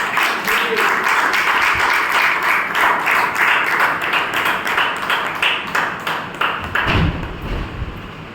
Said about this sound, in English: And with this much of introduction, a huge round of applause.